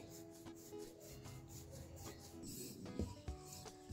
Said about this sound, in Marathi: आता आपल्याला याला छान असं लाटून घ्यायचं आहे।